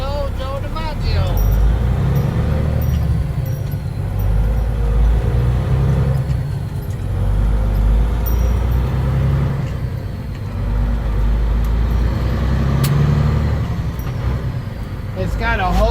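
A Freightliner truck on a test drive, its steady low engine and road rumble filling the cab, with people talking over it.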